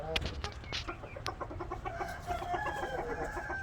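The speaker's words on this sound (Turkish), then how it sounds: "Şu horoz." Ornamental rooster and hens clucking close by in a yard, with a rooster's call rising early and steady clucks and short calls continuing throughout.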